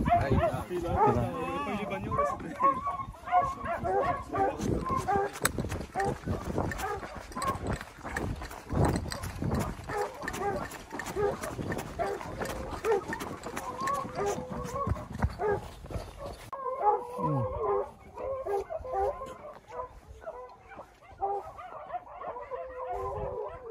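Hunting dogs bark repeatedly during a boar hunt on the opening of the 2021 hunting season, their barks mixed with shuffling and movement, some near and some farther off, and voices heard now and then.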